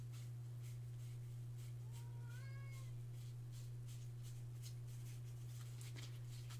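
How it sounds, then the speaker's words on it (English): A pet cat meows insistently indoors, wanting to be fed, a short rising-and-falling cry near the middle over a steady low electrical hum, with soft rustling and no talk. "I don't know if you guys can hear her. She's trying to guilt me."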